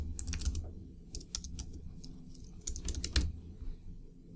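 A computer keyboard clicks as chat messages are typed, with quick irregular bursts of keystrokes, close and fairly quiet, without any talking.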